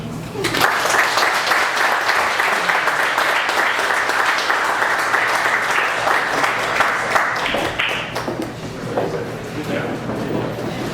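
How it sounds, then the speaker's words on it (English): Sustained applause from an audience at a monthly meeting, a thick wash of clapping that holds steady, then thins and tapers a little near the end. "Give him another round of applause."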